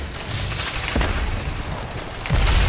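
A grenade detonates in a first-person shooter game, a loud, noisy burst with heavy low-end rumble and a second blast near the end, set over continuous gunfire.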